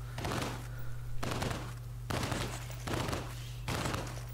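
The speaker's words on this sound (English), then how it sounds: "throw a flare and then throw a grenade and bam" Bursts of gunfire and explosions from the video game Solstice Chronicles: MIA, loud and rhythmic, with four or five blasts spaced about a second apart over a steady low hum.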